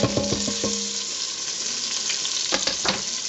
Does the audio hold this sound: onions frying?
yes